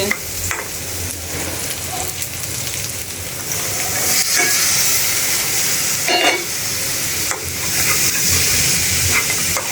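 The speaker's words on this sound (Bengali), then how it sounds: "এখন কাঁঠালের বিচিতে কষাবো" Jackfruit seeds and dried fish fry in a pan with a loud, hissing sizzle that swells and eases, broken by a few stirring scrapes and clinks, and no voices are heard.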